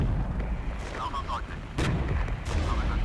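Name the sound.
artillery illumination fire in the video game Regiments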